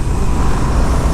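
A 2022 Indian FTR 1200 S motorcycle's engine roars loud and close in a short continuous burst of broad, rumbling exhaust noise, with no talk over it.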